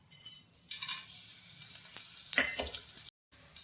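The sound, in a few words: mutton tempering sizzling in a pan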